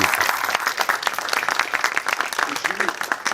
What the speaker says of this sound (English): Can everyone give a round of applause for Merrick?